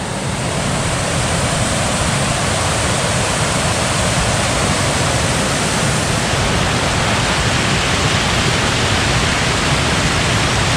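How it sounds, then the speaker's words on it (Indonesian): Roaring rush of fast-flowing water in the Japanese countryside, a loud, steady, broadband torrent that continues without pause, close and dense, with no voices over it. "Mungkin audionya ini ntar agak gemuruh, ada gemuruh-gemuruh air."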